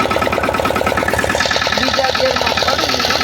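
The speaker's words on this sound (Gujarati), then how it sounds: "મિત્રો અત્યારે ટ્રેક્ટર ઉપાડવાનું છે તો હાલો ઉપાડીએ" A tractor engine starts and runs with a loud, steady, throbbing mechanical chug that continues throughout at close range.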